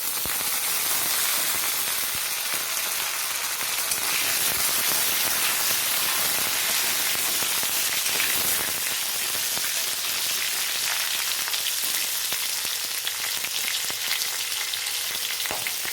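Potatoes and green chillies fry in hot oil, a loud, dense sizzle that crackles evenly and without pause from start to end.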